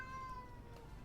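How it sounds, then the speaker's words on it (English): A pet cat gives a single faint, drawn-out meow close by, fading quickly against a quiet background with no talking. "If you hear my cats meowing"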